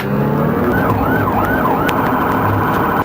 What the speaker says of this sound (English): I activated my lights and sirens behind you, okay?